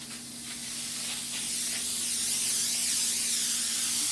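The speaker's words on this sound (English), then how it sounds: "if I want injection, I press the back button, and that's going to spray my injection cleaner" A Chief Steamer 125 PSI steam cleaner sprays injection cleaner onto a car, a continuous pressurized hissing spray running for several seconds, steady and close, with a faint tonal hum underneath.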